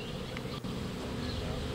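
Honey bees buzz densely around a hive box, a steady, close drone filling the short stretch without pause or voices.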